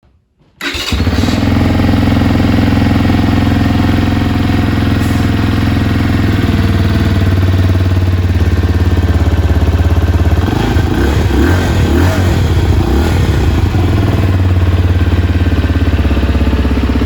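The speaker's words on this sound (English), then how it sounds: "I'll just start this bike up, let you have a listen to it." A 2022 Benelli Leoncino 125cc motorcycle starts after a brief silence and then runs steadily and loudly at close range, idling with a few light revs and no talking over it.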